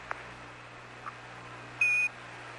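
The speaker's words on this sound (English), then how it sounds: "Give us a reading on the 1202 program alarm." A single short, clear, high-pitched electronic beep of a 1202 program alarm from a spacecraft computer, over a faint background hum, preceded by a couple of soft clicks.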